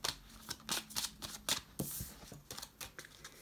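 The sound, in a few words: shuffling tarot cards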